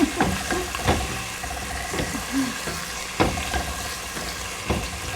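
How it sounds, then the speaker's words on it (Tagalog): Tomatoes being sautéed in a pan for salsa, with a low sizzle and intermittent scraping stirs and utensil clicks, while people talk nearby. "Sautay lang natin ng konti para lang lumabas ang juice ng tomatoes, ng kamatis."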